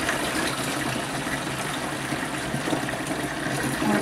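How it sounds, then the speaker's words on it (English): Warm water at 105 degrees pours into a home brew mixture, making a steady, continuous gushing splash at moderate volume that runs without pause. "now what we're going to do is we're going to add some water"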